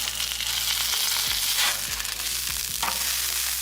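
Ground beef burger patties fry loudly in a hot pan, a dense, steady sizzle with a few muffled scrapes and taps as a spatula flips them, up close with no talk.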